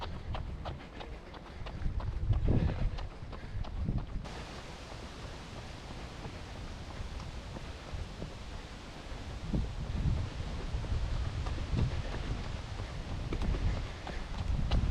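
Steady broadband wind rushing past a runner outdoors during a long road run, with faint rhythmic footfalls underneath and no talk.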